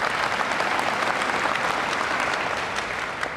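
Audience applause at a live evening talk event, a dense steady clapping from a large crowd that holds strong for over three seconds and tapers slightly at the end, with no voices over it.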